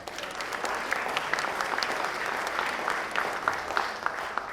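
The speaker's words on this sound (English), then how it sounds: "Let's give them a round of applause." Audience applause at an evening hometown event, a full, sustained burst of many hands clapping at fairly close range, holding steady throughout with no voices over it.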